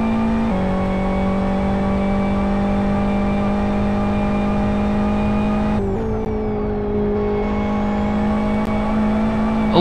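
A race car in the 24-hour Masters of Endurance race at Aston GP drones loudly at a steady engine pitch, with a quick shift and a slight drop in tone midway before it settles again.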